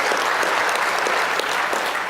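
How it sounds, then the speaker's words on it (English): Convention audience applauding in a hall, a dense, steady burst of clapping lasting a couple of seconds, with no voices over it. "Give me a round of applause if you agree with that."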